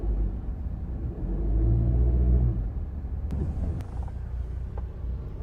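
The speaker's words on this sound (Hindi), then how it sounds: "अब इंजन को थोड़ा सा एक्सीलरेट करके आपको सुनाते" A Honda Civic RS Turbo, being checked after an auto tensioner failure, drives along a road with a steady low engine rumble that swells briefly as it accelerates, heard from inside the car with a few faint clicks.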